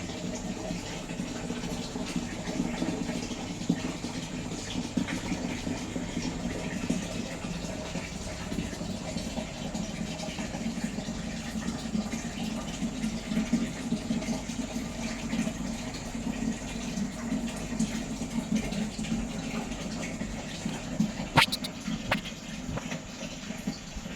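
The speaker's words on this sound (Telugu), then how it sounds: "మీ సంపులో వాటర్ తీసుకొని మీ వాటర్ ట్యాంక్లో వాటర్ నింపుతుంది" A water pump motor draws from an underground sump to fill a rooftop tank, giving a steady, continuous rush of running water with a low mechanical drone throughout, moderately loud and unbroken, with a brief click near the end.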